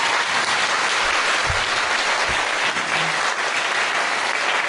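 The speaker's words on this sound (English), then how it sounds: "giving Master a round of applause" A gathering applauds Master with sustained, even clapping from a large crowd, loud and unbroken throughout.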